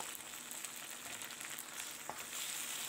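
Tomatoes fry in a sufuria for a wet-fry fish masala, giving a continuous soft sizzle with faint stirring scrapes, fairly quiet and without talk.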